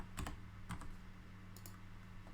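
A few short bursts of typing on a computer keyboard, quick soft clicks in two or three small clusters, close but faint over a low steady hum, with no talk.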